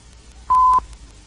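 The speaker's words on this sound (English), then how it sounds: "The bell is ringing." A single short electronic tone stands in for a school bell at the start of class, one steady beep lasting about a third of a second, clean and alone.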